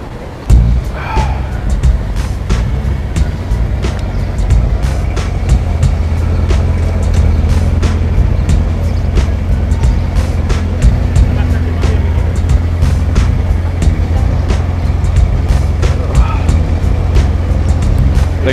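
A car idles and rolls up close by, its steady low engine rumble continuous throughout, with people talking over it.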